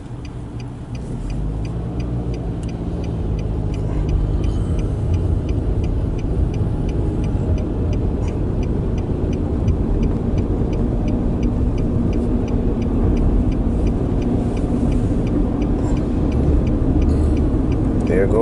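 A 2013 Nissan Sentra with a slipping CVT transmission, heard from inside while driving: a steady low engine and road drone that swells slightly and holds, with faint ticking in the background.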